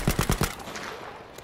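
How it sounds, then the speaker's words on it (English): Machine gun laying down suppressing fire in the video game Battlefield V, a quick burst of four sharp rapid shots followed by a fading echoing tail. "I'll try to put some suppressing fire down."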